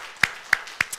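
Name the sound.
congregation applauding in church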